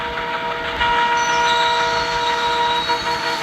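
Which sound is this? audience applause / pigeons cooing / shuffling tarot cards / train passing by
train passing by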